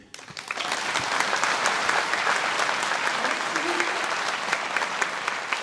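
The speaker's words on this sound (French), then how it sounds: "vous pouvez les applaudir bien fort" Audience applause at a town mayor's New Year wishes ceremony, a loud, sustained wash of many clapping hands rising quickly and holding steady throughout.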